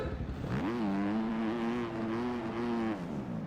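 A virtual motocross bike in MX Bikes revs hard, its engine note climbing sharply then holding a loud, buzzing high pitch with slight wavering before easing off near the end, with no talking over it.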